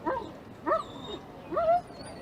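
A police K9 dog gives three short whimpering yips in a quiet outdoor setting, each brief and close, spaced about half a second to a second apart with no talking.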